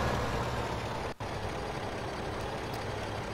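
Tractor engine in the video game Farming Simulator 15, a steady low rumbling drone with a brief dip in the middle, continuous and fairly quiet with no talking.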